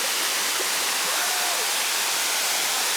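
A waterfall roars in a steady, dense wash of rushing water, loud and unbroken, with no voices standing out.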